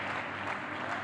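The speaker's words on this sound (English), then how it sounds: "you can hear the crowd in the background" A crowd claps steadily at a padel match semifinal in Tucumán, a dense, even patter of applause at moderate distance with no talk.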